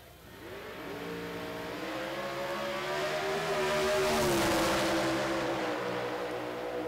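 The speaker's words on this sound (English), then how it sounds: "This is a dandy little drag race right here." NMCA drag race cars at Indianapolis launch and accelerate down the strip, a loud engine roar rising in pitch over several seconds and peaking as they pass close by.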